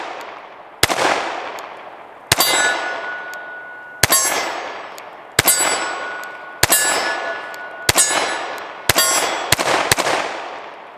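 Bullets from a PSA Micro Dagger pistol strike a steel hostage popper target, giving about nine sharp metallic clangs with ringing decay. The hits come in uneven spacing and grow quicker toward the end.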